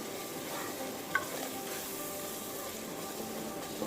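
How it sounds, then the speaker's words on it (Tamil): Masala paste being stirred into a potato and chickpea kurma in a pan, with a soft continuous sizzle under steady scraping and a single sharper clink of the spoon partway through; no voices. "சேர்த்துட்டு இதையும் 1 நிமிஷம் நல்லா மிக்ஸ் பண்ணி விட்டுக்கலாம்."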